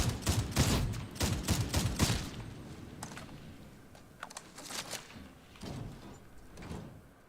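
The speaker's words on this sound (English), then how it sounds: "the Mark 7 Headhunter, which, yeah, there it is, which shoots in just singular bullets" Single shots from a Mark 7 Headhunter rifle in Darktide crack out one at a time, a cluster of close, sharp reports early on, then sparser, fainter shots spaced further apart.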